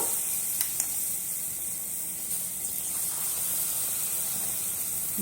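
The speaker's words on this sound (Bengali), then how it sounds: "আমি বড়াগুলো একভাবেই ভেজে নেব।" Palm fruit fritters (taler bora) fry in hot oil with a steady, faint sizzle and hiss that runs throughout, with a few brief clicks and no talking.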